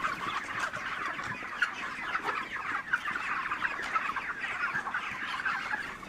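Thousands of chickens cluck and chatter steadily inside a crowded poultry shed, a dense continuous chorus with occasional sharper calls and no talking.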